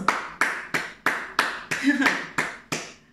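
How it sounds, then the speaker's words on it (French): Slow, rhythmic congregational clapping at a church worship service, eight sharp unison claps spaced evenly about a third of a second apart, close and clear, with a brief voice calling out between beats. "Il mérite les acclamations."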